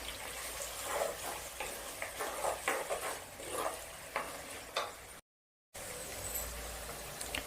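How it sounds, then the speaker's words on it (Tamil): Chopped onions and curry leaves sautéing in oil for chicken gravy, a soft, steady sizzle with repeated light stirring scrapes and a short silent gap near the end. "வெங்காயம் நல்லா வதங்கட்டும்"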